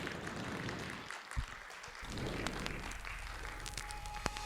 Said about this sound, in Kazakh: Кәнеке, бір шапалақ ұрайықшы тоқтамай, шын жүректен аналарымыз үшін.